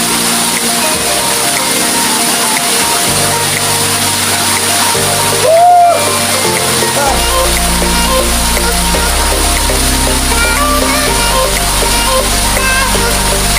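Water at Stone Falls in Aguilar, Pangasinan, Philippines, pours as a steady, loud, broadband rush, with a layer of music running over it throughout.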